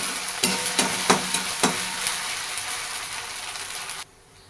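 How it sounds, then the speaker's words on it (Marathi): Paste sautéing in a pan for a vegetable thali, with a continuous hiss of frying and a few sharp scraping strokes of a spatula near the start, ending abruptly. "पेस्ट टाकून घेते. चांगलं असं परतून घेऊया"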